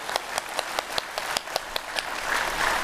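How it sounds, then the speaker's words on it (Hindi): Clapping from an audience gathered at a Patanjali event in Haridwar: one pair of hands gives crisp, evenly spaced claps over a light background patter, then broader crowd applause builds at the end. "जरा जोर से ताली ठोको, धीरे धीरे क्यों बजा रहे हो?"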